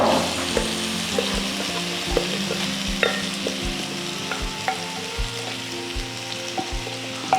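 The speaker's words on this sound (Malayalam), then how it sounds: "നമുക്ക് ഇനി എല്ലാം കൂടി ഒന്ന് മിക്സ് ചെയ്ത് ഈ വെള്ളമൊക്കെ ഒന്ന് വറ്റിച്ച് നല്ല ഇതാക്കിയെടുക്കാം" Pork sizzles in a pan while a utensil stirs it in steady, rhythmic scraping strokes, close and clear over a constant frying hiss, with no voices.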